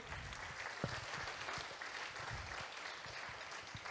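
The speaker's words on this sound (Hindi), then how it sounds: "क्या आप ताली नहीं बजाएंगे अपने इस इस बात के लिए" A church congregation at a New Year's Eve service applauding, a dense, continuous crackle of many hands clapping at moderate distance.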